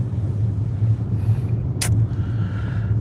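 An automatic car wash runs around a car after a snowstorm, a heavy steady rumble with a brief hissing spray burst partway through, heard from inside the vehicle.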